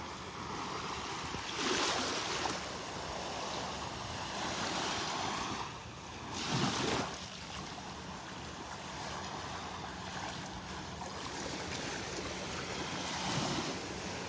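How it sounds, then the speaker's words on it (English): Ocean waves and wind on a beach in North Naples, Florida, at Delnor-Wiggins Pass State Park: a continuous surf wash with several louder wave crashes and gusty wind buffeting the microphone, no voices. "Welcome to the beach in North Naples, Florida."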